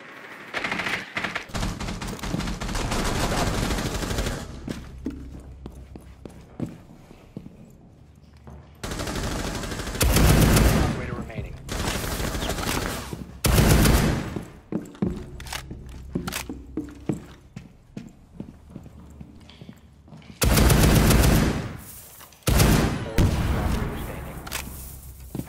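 AR rifle gunfire in Rainbow Six Siege, firing in single-fire mode: several loud bursts of rapid shots separated by quieter stretches of footsteps and game sounds.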